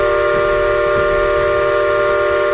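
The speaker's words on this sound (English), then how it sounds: "You'll hear these sounds when a train is approaching an intersection or pulling into a station." Light rail train warning tones sounding as the train approaches an intersection or pulls into a station: steady, sustained horn-like tones held at an even level throughout, with faint low rumble beneath.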